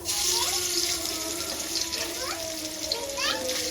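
Hilsa fish frying in hot mustard oil in a pan, a steady broadband hiss and crackle that stays loud and close throughout, with faint tonal chirps riding over it.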